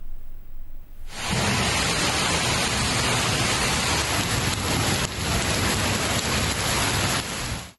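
Heavy rain pours steadily across Khuzdar, Balochistan, a dense, loud, unbroken wash of falling water that starts abruptly after a quiet second and holds strong throughout, with no voices.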